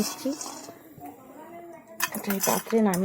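Fried bottle gourd peel, potato and cabbage are moved from the pan into a bowl, with clinking and scraping of metal utensils against cookware, growing busier toward the end while a person talks.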